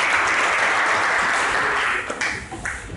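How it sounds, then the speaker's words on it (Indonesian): Applause from an audience at a teacher training session in a classroom, a dense burst of clapping that tapers off after about two seconds. "Ayo kasih aplaus buat Ayu."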